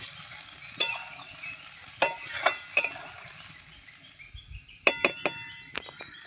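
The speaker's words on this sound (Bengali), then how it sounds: "আর একটু জল দেব এই আমি জল দিয়ে ভালো করে নেড়ে ফেলে" Boal fish curry with potatoes being stirred after water is added, a utensil clinking against the pan in sharp scattered strikes over a soft sizzle, with no voices.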